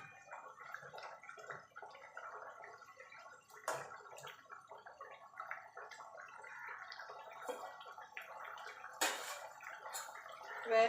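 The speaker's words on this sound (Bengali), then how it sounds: "এটাকে একটু ফুটতে দেবো মিনিট 2" Fish curry gravy with kasundi bubbles in a pan, giving a soft continuous sputtering with small pops and a few louder bursts. It is faint and close, with no voices.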